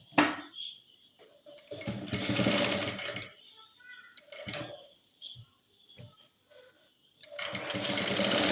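Sewing machine stitching the folded side of a girl's uniform pant: short bursts of fast mechanical whirring broken by clicks and pauses, close and fairly quiet, with no speech.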